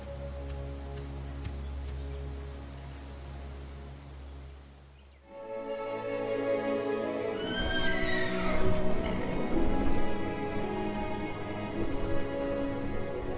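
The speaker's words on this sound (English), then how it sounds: "Horses! Just what I need!" Horses whinny loudly amid clopping hooves and a busy, rumbling background in the video game Dragonlance: Dragons of Autumn Twilight.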